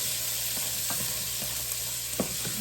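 Gumbo ingredients sauté in a pan with a continuous loud sizzle, while a spoon scrapes and knocks against the pan in scattered close stirring clicks.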